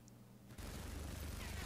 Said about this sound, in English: he made the decision to actually use his sentry gun to cover himself. And the sentry gun helps him get the kill